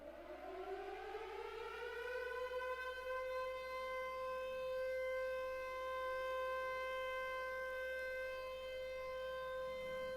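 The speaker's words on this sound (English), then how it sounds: "One day the sirens sounded" A loud World War II air raid siren wails steadily, rising at the start and then holding a sustained, droning tone throughout.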